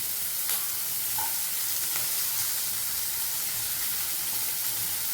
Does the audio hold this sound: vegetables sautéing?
yes